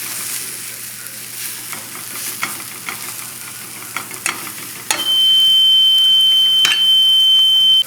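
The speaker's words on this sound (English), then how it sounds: "That's my smoke alarm going off because I forgot to close the door" A home smoke alarm begins a loud, sustained high-pitched beep midway through, over the steady sizzle of veal searing on a high flame in a kitchen pan, with a brief clatter from cooking before it.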